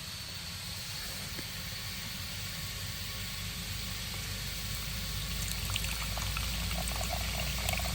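Water pours and hisses steadily in a continuous rushing stream out of a 2002 Zanussi SD2811 spin dryer, growing slightly louder toward the end.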